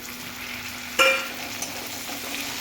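Tomatoes frying in a pan for a Marathi vegetable curry, with a low constant sizzle and one sharp clink of a spoon stirring near the start.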